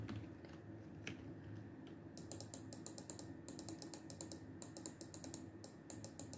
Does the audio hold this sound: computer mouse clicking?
yes